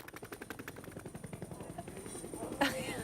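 A man imitates a helicopter with his voice, making a rapid, rhythmic chopping pulse that grows and then breaks into a final burst. It is quite faint and heard alone.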